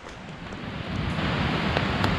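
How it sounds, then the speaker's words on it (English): Rain pattering steadily on a closed tent along the Pacific Crest Trail during a thunderstorm, a dense close hiss that grows louder and is broken by occasional sharper drop ticks, with no voices. "So it started raining"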